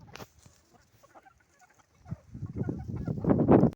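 Chickens and a rooster on a farm, scattered soft clucks early on, then a denser run of close clucking and fowl calls that builds louder toward the end.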